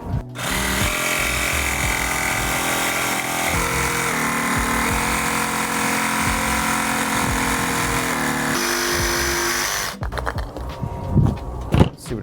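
A power tool cuts a rounded edge on a cabinet door for a pop-up camper, whining loudly and steadily for about ten seconds before it stops, leaving scattered handling clatter.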